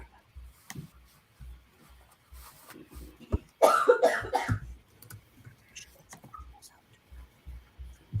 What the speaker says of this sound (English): I hope you're okay, person coughing in the background.